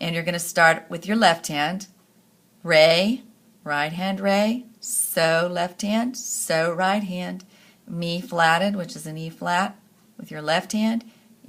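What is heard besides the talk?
No everyday noises stand out.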